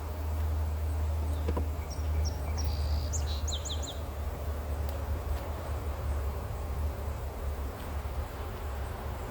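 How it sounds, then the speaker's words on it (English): Honey bees hum in a low, continuous drone around an open hive during honey pulling, while a bird chirps briefly in the background. "hopefully all these bees can continue being nice"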